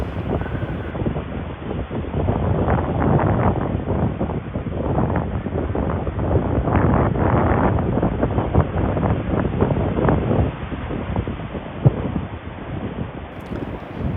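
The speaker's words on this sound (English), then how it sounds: "It's a little windy today." Strong wind buffets the microphone steadily at an Atlantic Ocean beach in Satellite Beach, Florida, with a roaring rush and the surf churning underneath for the whole stretch.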